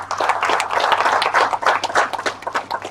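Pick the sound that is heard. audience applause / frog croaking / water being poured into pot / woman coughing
audience applause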